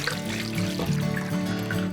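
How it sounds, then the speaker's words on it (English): Brine poured over fish sitting in a non-reactive container, giving a steady close trickle of liquid that runs through the whole moment with no talking. "Place the fish in a non-reactive container"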